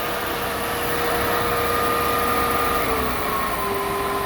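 An Acra CNC milling machine spindle, run cold, whines as it winds up toward 4,000 RPM, with thin tones rising in pitch over a steady motor hum.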